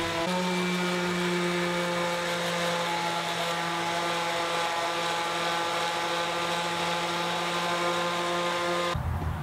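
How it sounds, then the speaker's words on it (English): A power sander runs continuously on fence picket wood at a steady, loud whine and buzz, with a brief change in tone near the end. "I think now would be a good time to do the first round of sanding"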